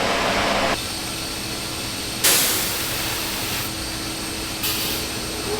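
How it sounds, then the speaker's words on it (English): A vacuum conveying system draws roasted coffee from a hopper up a tube to a color sorter in a coffee roastery. It makes a loud, steady rushing hiss with sudden bursts of stronger airflow. "it goes by a vacuum system up this tube and through the Bob the Pearl Mini, which is our color sorter"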